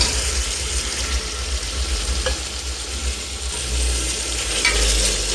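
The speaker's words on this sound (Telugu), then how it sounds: "పేస్ట్ ఒక టీ స్పూన్ వేసుకుందాం సో పచ్చి వాసన పోయే వరకు ఫ్రై చేసుకోవాలి బాగా" Ginger-garlic paste and tomatoes frying in a pan for mutton curry, a steady close sizzle with occasional stirring scrapes, continuous and fairly loud throughout, no talking.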